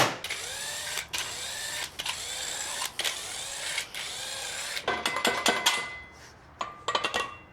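Torqued bolts being removed from a Pentastar 3.6 engine block during a short block rebuild, with a power tool whirring in repeated bursts of about a second, then sharper ratcheting clicks and metal handling close by.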